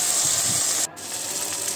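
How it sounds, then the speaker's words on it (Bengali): Spice paste frying with potato and tomato in a pan for a koi fish and bottle gourd dish, a steady close sizzling hiss that drops briefly and then carries on. "এবার এই বাটা মশলাটা দিয়ে আলু আর টমেটোকে খুব ভালো করে কষিয়ে নিতে হবে।"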